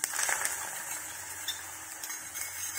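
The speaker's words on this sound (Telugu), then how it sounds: "ఇప్పుడు పల్లీలు వేడయ్యాయి ఈ మసాలా వేసుకొని కలుపుకుందాం" A spoon scraping and stirring hot peanuts with dry spice masala in a pan, a close, continuous rustling and gritty clatter with occasional sharper ticks.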